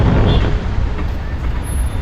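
Dense road traffic in Ooty during the busy season rumbles nearby, with bus and truck engines, a hiss of air brakes and a steady low roar of passing vehicles.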